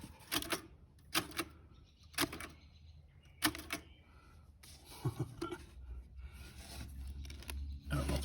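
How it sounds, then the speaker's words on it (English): An old Underwood typewriter is handled and clacks in a handful of sharp, separate knocks and rattles, quiet overall with soft rustling and shifting between the hits. "Underwood typewriter."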